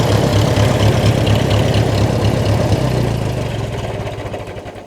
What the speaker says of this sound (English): But yeah, as you can hear, it runs pretty sweetly.